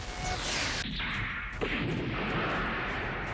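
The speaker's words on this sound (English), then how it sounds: "all the turrets shoot off several pot shots into the assault mech" Mech turrets firing several pot shots at an assault mech in a sci-fi video game, heavy booming artillery-like blasts with whooshing tails, loud and close with no talk.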